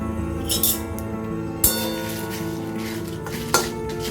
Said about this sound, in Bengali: চলো আস্তে আস্তে নাড়তে থাকি